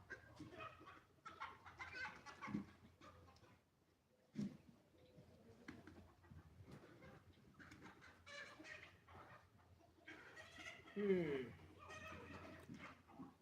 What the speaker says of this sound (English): the chickens are fighting because we're not over there